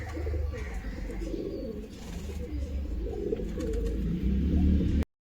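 Pigeons cooing, soft low throaty coos repeating through a steady murmur of birds close by, with a brief dropout near the end.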